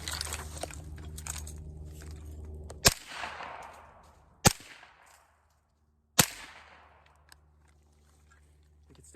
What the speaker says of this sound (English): You can still hear that supersonic crack in the background.